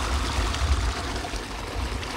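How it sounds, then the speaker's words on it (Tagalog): River water flows steadily outdoors, a continuous broadband rush with low rumbling, moderately loud and close, with no talk over it. "Ilog na yan."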